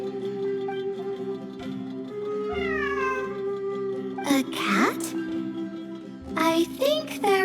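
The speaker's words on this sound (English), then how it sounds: "It really is a cat" A cat meows several times in the video game Genshin Impact, with rising and falling cries standing out over a steady musical background, loud and close.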